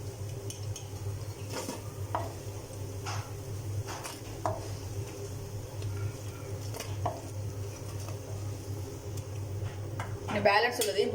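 Battered cauliflower fries in hot oil for gobi manchurian, a steady close sizzle with a low hum beneath and scattered clinks of a utensil stirring against the pan.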